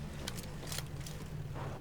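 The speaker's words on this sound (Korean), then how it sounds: "차 소리." Buggy engine in PUBG (Battlegrounds) running steadily with a low droning rumble, fairly close and continuous, with brief brighter bursts of game noise over it.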